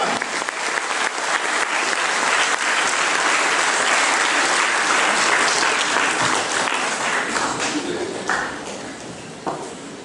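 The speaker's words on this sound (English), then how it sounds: "Can I request everybody to give a big round of applause to all these people?" Audience applause after a school choir's performance in a musical play, a dense sustained clapping that fills the room for about ten seconds before thinning out near the end.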